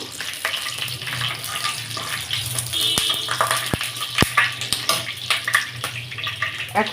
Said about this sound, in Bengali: দিয়ে দিলাম কয়েকটা শুকনো মরিচ তেজপাতা দারুচিনি একটু কিছুক্ষণ ভেজে নেব এখন